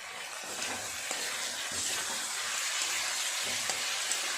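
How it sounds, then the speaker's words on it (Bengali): Potatoes sautéing with spices in a pan give a steady, close sizzle and hiss with occasional soft stirring scrapes, heard alone without any talk. "খুব ভালো করে আলুগুলোর সাথে সমস্ত মশলাটা একটু কষিয়ে নেব"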